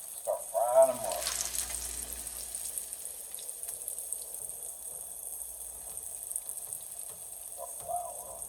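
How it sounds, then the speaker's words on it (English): Flour-coated pork chops are laid into a hot pan and begin frying, a soft continuous sizzle after a brief clatter at the start, fairly quiet and without talking. "And then we're just going to lay them in there, girl. Okay? Start frying them up."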